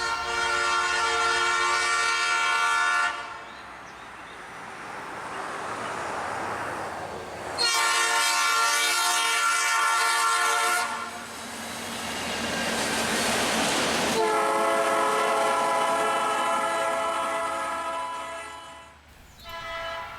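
A locomotive horn blasts in long repeated honks as a short local freight train, one SD40 and one auto rack, rumbles past close by, with rolling wheel noise between the blasts.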